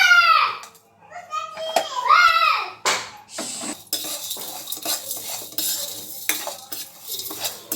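Indian spices and a bay leaf are dry-roasted and stirred in a pan for horsegram curry. A voice comes first, then close, busy rattling and scraping of a spoon against metal, with talk mixed in.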